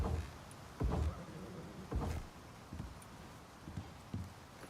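Horse hooves in the survival video game ICARUS strike ground in a slow, uneven sequence of distinct clip-clop thuds, fairly close but quiet, with no talk over them.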